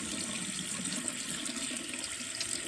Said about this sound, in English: we just need to turn on the water.